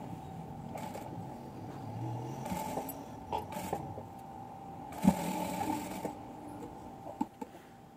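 A sewing machine stitches a frock made from a converted saree, whirring in a steady hum broken by short bursts and occasional clicks and knocks.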